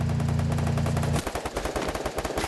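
Rapid automatic gunfire in a video game rattles out in loud, continuous bursts, with a low droning tone under the opening second.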